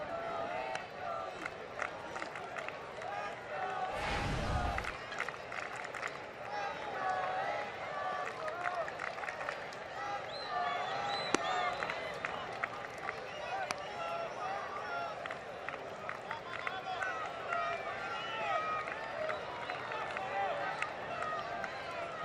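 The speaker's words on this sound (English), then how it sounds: "There's a few select fans that are cheering "Let's go Angels," and we can hear them distinctly" Baseball fans at an Angels night game against the Cardinals, a thinned-out crowd late in the evening, producing a steady distant murmur and scattered cheering under a broadcaster's commentary.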